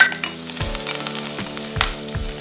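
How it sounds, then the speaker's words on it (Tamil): Onion, green chilli and curry leaves sauté in hot oil with urad dal and cumin. A steady close sizzle runs throughout, broken by occasional scraping stirs, with no talk. "வெங்காயம், பச்சை மிளகாய், கருவேப்பிலை சேர்த்து வதக்கிக்கலாம்."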